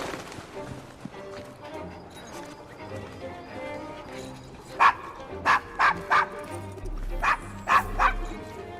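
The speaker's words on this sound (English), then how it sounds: "Is your dog quite all right?" A dog in Assassin's Creed Syndicate, set in London, barks in a quick series of sharp, loud yaps over busy street ambience with hooves clopping and faint crowd noise.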